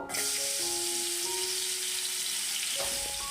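Potatoes coated in salt and turmeric sizzle steadily in hot oil, a loud, close, continuous frying crackle with faint clinks of a utensil, for a Bengali papaya ghonto recipe.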